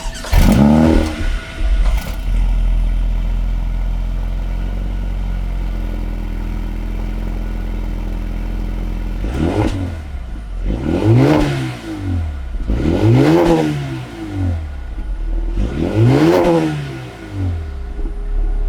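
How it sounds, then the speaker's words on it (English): A 2021 Mercedes-AMG A35 starts and idles with a deep exhaust burble, then gives four loud, sharp revs in steady succession, each rising and falling, recorded close to the tailpipes. "this is what the A35 AMG sounds like"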